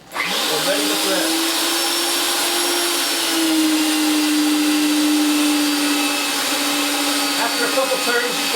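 Wheeler-Rex 8090 pipe threading machine cutting thread on pipe, a steady loud motor whine with a sustained tone that holds through the clip, with some brief talk over it.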